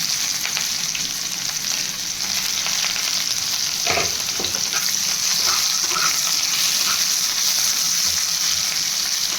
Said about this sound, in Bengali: পেঁয়াজ কুচিগুলো দিয়ে দেবো।